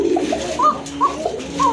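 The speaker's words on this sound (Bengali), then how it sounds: "মাদি কবুতর যেটা ডাকলো এতক্ষণ" Soft, repeated throaty cooing of a female pigeon close by, several low rolling calls in a loose rhythm.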